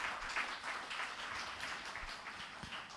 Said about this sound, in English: A round of applause again, please.